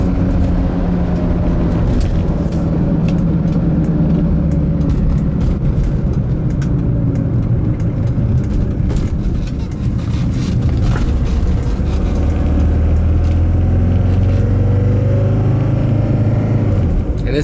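A Mercedes-Benz W123 300D non-turbo diesel car drives on a test drive, its engine producing a loud, steady low rumble and drone heard from inside the cabin throughout.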